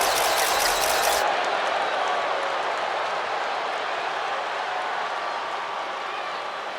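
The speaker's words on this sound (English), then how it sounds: "Tiffany Stratton getting a warm welcome from this home crowd." A home arena crowd cheers in the WWE 2K25 wrestling video game, a dense, steady roar of noise and applause that fills the whole stretch without letting up.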